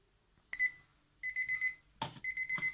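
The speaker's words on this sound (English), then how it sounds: "So I have to stop the alarm" Kitchen timer alarm going off after microwaving noodles: three clear bursts of rapid electronic beeping, loud and close, separated by short silences, with no voices.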